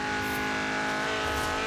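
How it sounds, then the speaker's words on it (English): Racing car engine in Forza Horizon 4 drones steadily and loudly at a sustained high pitch for the whole moment, with no speech over it. "some of the engine sounds are pretty good"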